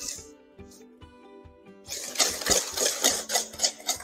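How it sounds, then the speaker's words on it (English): Whisk beating a homemade dishwasher detergent mixture in a bowl, giving a rapid, scratchy rhythmic swishing that starts after a short quiet lead-in and keeps going steadily and fairly close. "Now I'm going to go through this really good and whisk it to make sure I get all"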